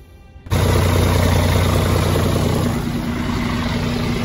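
Truck engine running with its air compressor exhausting air nonstop, a loud close steady hiss over a low engine rumble that starts abruptly and continues without pause.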